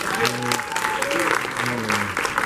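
A cinema audience at a Gremlins Q&A applauds actor Zach Galligan, a steady, dense round of clapping with voices calling out over it.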